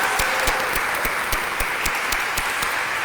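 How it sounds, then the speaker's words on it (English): At a town hall in Buffalo, an audience gives a round of applause, a steady, dense wash of clapping with a few sharper claps standing out, with no talking. "Can we give Chris another big round of applause?"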